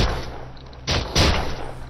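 Two sharp bursts of gunfire with special ammunition in the VR game Surv1v3 break through a steady, dense background rumble, the second one heavier and sustained for a moment.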